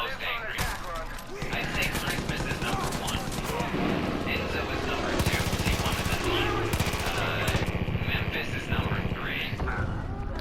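Repeated gunshots and bursts of automatic fire ring out in Far Cry 5 gameplay, sharp and fairly close, mixed with game sounds while someone talks over them.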